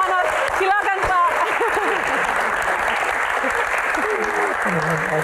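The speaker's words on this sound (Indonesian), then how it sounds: "Tepuk tangan buat Pak Manoj." Steady applause from a seated audience at a film Q&A fills the space for several seconds, with a voice speaking over the clapping.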